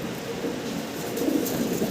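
A male Mundian pigeon calls at close range with a low, throaty cooing that continues through a short stretch, with no talking.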